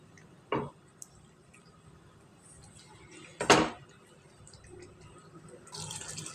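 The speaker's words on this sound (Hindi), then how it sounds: "और अब ये खोलना शुरू हो गया है" Water beginning to boil in a pot ahead of adding spinach: a quiet simmer broken by two sharp bubbling bursts, then a livelier, rising bubbling toward the end.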